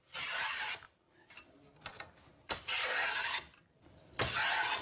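Hand plane shaving ebony on a snooker cue, giving bursts of dry, raspy scraping in four strokes separated by short quiet gaps, close and fairly loud.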